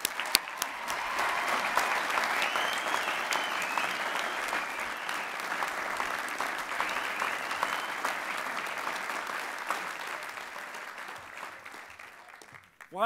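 Sustained applause from a large commencement audience welcoming speaker Bill Nye at Lehigh's 2013 graduation, a steady dense wash of clapping that holds for over twelve seconds before fading.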